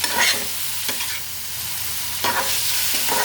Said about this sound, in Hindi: ये फ्राई हो रहा है। आप चाहे तो शैलो डीप फ्राई कर सकते हो, मैं शैलो फ्राई कर रही हूँ।